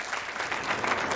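Steady applause from a gathered crowd, a brief continuous patter of many hands clapping at even loudness throughout.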